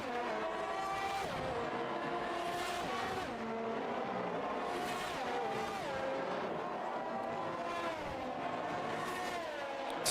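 Race cars roar around the Hungary circuit in Project Gotham Racing, engines whining and rising and falling through gear changes. Tires squeal now and then under a steady, loud, continuous wash of engine noise.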